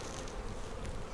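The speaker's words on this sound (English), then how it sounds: "you need to do a short, sharp action where you shake the bees like this" Honeybees buzzing after being shaken off a hive frame, a dense continuous hum swelling slightly, close and fairly quiet.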